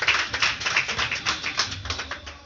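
Applause from a church congregation: a steady patter of many hands clapping together at an even pace, close and lively, with no voices over it.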